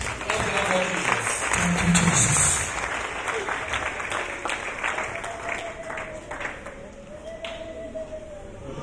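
A church congregation applauds Jesus Christ with a long, full wash of clapping that swells early, then settles into steady applause, with a voice faintly present beneath it.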